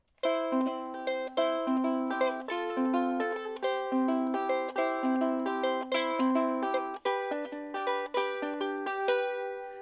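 A ukulele plays a repeating picked pattern, individual notes ringing over changing chords at an even tempo, close and clear, no voices.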